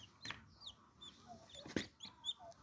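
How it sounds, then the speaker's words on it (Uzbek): Newly hatched chicks, still wet, cheep in brief high calls at irregular intervals against faint farmyard background, with one louder close peep; no talking. "Tog' jo'jachalar bular."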